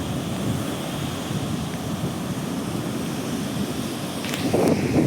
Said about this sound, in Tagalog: Grabe ang alon dito